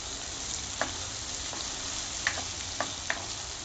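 Onion sautés with a paste of ginger, garlic, chili and coriander, giving a soft, steady sizzle. A few light clicks of a spoon against the pan break in now and then.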